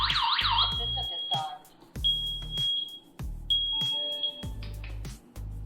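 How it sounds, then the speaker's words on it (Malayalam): A smoke detector fire alarm from a home security system sounds in repeated shrill electronic tone bursts with short pauses between them, loud and close, with no talking. "നമുക്ക് ഫയർ അലാം എന്നുള്ള നോട്ടിഫിക്കേഷൻ വന്നു"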